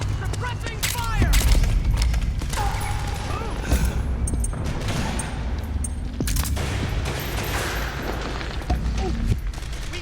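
Suppressing gunfire in Metal Gear Solid 4, a dense, continuous barrage of rapid shots and booms with crashing impacts, loud and close throughout, with voices shouting over the fighting.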